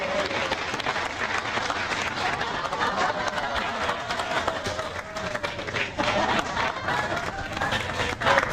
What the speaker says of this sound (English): Let's have another round of applause for all of you.